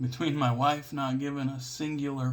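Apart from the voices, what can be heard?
No everyday noises stand out.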